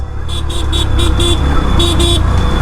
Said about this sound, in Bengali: উল্টা আরেকটা জ্যাম পড়ে গেছে